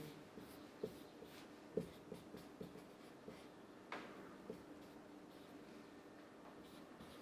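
A pen sketching an electrical control circuit diagram scratches on paper in short, close strokes with small taps between them, quiet and steady, without speech.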